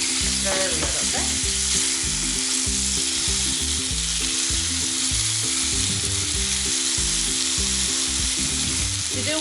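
Kimchi and pork stir-frying in a hot pan with chopsticks, a loud, dense, continuous sizzle running throughout over a low rhythmic backing.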